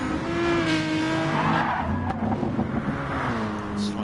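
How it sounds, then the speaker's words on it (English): A race car in a racing video game spins out as its wheels hit the sand, giving a sustained engine drone with squealing, sliding tyres and shifting pitch, loud and continuous with no voices. "we just see Pav spinning out in the background. Getting his wheels on the sand there and losing the back end there"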